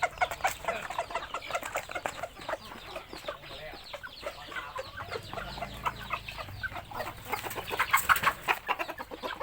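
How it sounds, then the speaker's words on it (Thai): Chickens on a poultry farm cluck and chatter continuously at close range, with a busy layered flock sound that swells toward the end. "นี่เป็นไก่"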